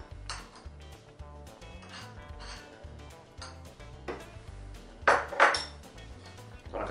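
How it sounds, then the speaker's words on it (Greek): A spoon clinks and scrapes around a bowl while a chicken thigh stuffing with black pepper is mixed, giving a steady patter of small metallic taps with a couple of brighter knocks near the end. "Το ανακατεύουμε καλά."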